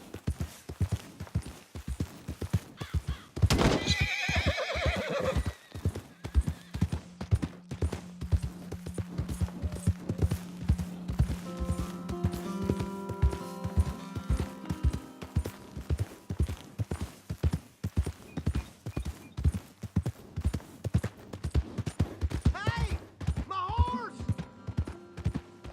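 Horse hooves clop in a fast, steady gallop rhythm in a Red Dead Redemption 2 game scene, with a brief neigh near the start, a voice speaking partway through, and other tones beneath the hoofbeats.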